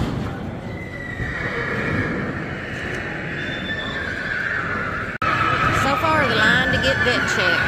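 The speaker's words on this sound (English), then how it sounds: "Horses everywhere." Draft horses whinny and neigh repeatedly amid a busy, noisy crowd of animals at an auction, with a loud continuous background and occasional hoof clatter.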